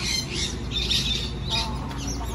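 A masked lapwing at an aquarium gives loud, harsh squawking calls in repeated bursts, close by, over a steady background hum.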